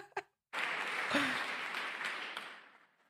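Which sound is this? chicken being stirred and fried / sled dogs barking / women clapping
women clapping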